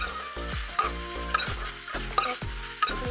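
Vegetables are stirred in a frying pan. The spoon scrapes in a steady repeated rhythm, with sharp clicks against the pan over a constant close sizzle. No talking.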